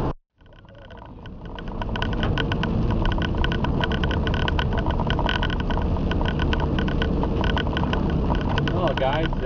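A car towing a trailer drives along a gravel country road, with a steady, loud rumble of engine and tyre noise that builds after a brief dip and then holds constant.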